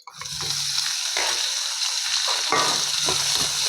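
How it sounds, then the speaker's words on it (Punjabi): Chopped onions and tomatoes fry in hot oil with whole cumin seeds, giving a loud, steady sizzle and crackle throughout, with occasional stirring scrapes and no talk. "ਹੁਣ ਪਾ ਦਾਂਗੇ ਪਿਆਜ਼ ਟਮਾਟਰ ਕੱਟੇ ਹੋਏ"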